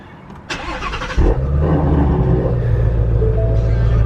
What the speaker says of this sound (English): Let's start the Shelby up for the first time.